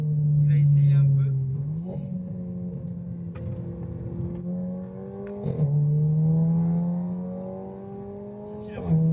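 A Seat Leon FR with a tuned 1.8-litre engine revs up repeatedly as it is driven, the engine note rising and dropping in loud surges, with short bursts of talk from people riding inside the car.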